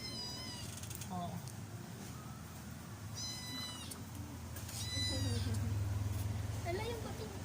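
Several short, high meows from a cat in a home, scattered across the clip over a low background hum, with people speaking quietly nearby.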